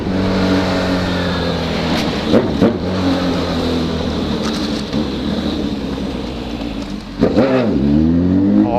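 Honda CB1000 motorcycle fitted with a 4x1 exhaust revs hard and loud at close range, a sustained roaring engine with sharp throttle blips and rising swells throughout, no talking over it.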